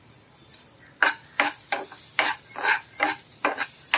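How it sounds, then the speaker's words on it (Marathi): Dry lentils (dal) being roasted and stirred in a pan over a gas flame, with about nine crisp scraping stirs in a steady rhythm, close and fairly quiet, and no talking. "गॅस लावलं आता आपण ही डाळ भाजून घेऊया"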